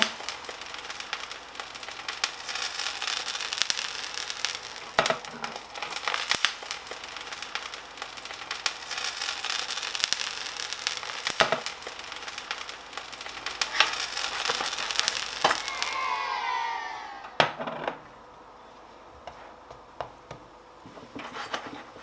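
Korean lentil pancake (bindaetteok) sizzling steadily in oil in a pan, a loud continuous crackling hiss with a few sharp knocks, then a brief burst of spatter as it is flipped and extra oil is added, before dropping to a quieter fry.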